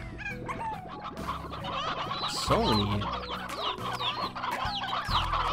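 Stony hens in the video game Slime Rancher cluck continuously, with several birds overlapping in busy, close squawks and a brief louder call partway through.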